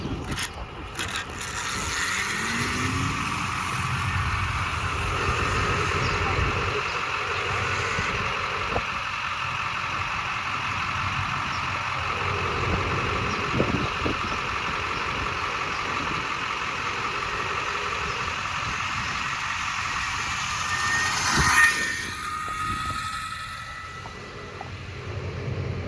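A homemade electric minibike built on a GTS frame rides in speed mode 3, giving a steady electric motor whine over rough road rumble, with a brief surge late in the ride before it eases off.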